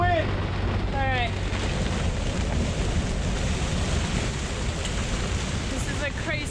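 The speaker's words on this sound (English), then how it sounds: "This is a crazy mix of wind and current" Strong wind from a microburst roars steadily across a sailboat, a loud, unbroken rush of gusts and water noise buffeting the microphone with no let-up for the whole stretch.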